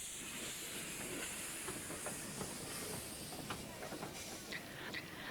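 Steady steam hiss from a 0-4-0 saddle tank locomotive fills the air with a faint rhythmic rattle of railway wagons beneath, continuous and fairly close.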